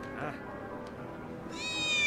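A cat meows in the video game Final Fantasy VII Remake, a brief mewing call near the start followed by a rising tonal game sound, under quiet background noise with a player talking.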